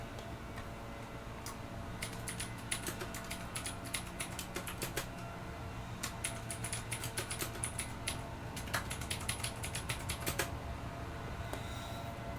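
Quiet, irregular bursts of clicking keys on a computer keyboard, tapping in uneven clusters with brief pauses, close and faint in an otherwise still room.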